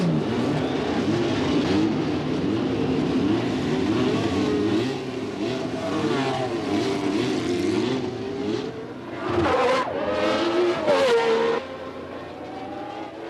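Loud race car engines roar and rev continuously during practice in Las Vegas in 1981, with pitch rising and falling as cars accelerate, plus a sharp surge near the end.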